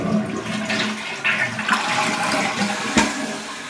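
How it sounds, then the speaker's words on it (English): A newly installed toilet flushes loudly and close by, a full rushing swirl of water that surges and gurgles for several seconds with no other sounds. "Get you a good flush."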